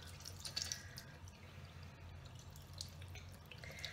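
Water rinses soap out of a makeup brush at a sink, a faint, close trickle with soft drips and splashes under a low background hum.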